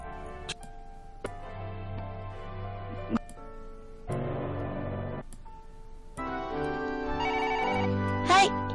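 A cartoon telephone rings with bright, bell-like bursts that come and go amid musical tones and cartoon voices.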